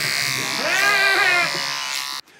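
Electric clippers shearing wool from a sheep give a steady, loud mechanical buzz that swells and wavers for about two seconds, with a faint bleat-like tone riding on it, then cut off abruptly.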